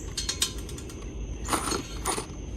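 Ratcheting and wrench clicks while new header studs are tightened on a 2004 Honda Shadow 1100 motorcycle, short bursts of metallic ratchet clatter close by with a low background hum.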